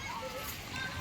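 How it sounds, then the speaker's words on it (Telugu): A water fountain at Rashtrapati Nilayam in Hyderabad splashes in a brief, continuous wash of water while a voice speaks over it. "ఈడ వాటర్ ఫౌంటైన్ ఉంది."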